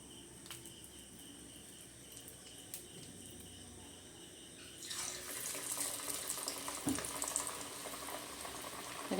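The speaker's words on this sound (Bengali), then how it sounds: "এটা করে আমি হাত দিয়ে তেলের মধ্যে দিয়ে দিচ্ছি।" Onion pakoras slid by hand into hot oil over a medium-low flame, setting off a sudden, steady broadband sizzle halfway through that grows louder and busier after a quieter, faint kitchen hiss.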